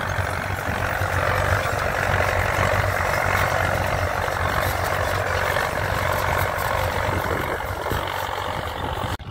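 A Valmet 880 tractor engine runs steadily while planting corn with a four-row Tatu planter, a continuous loud diesel drone with a gritty broadband roar and no pauses, heard fairly close.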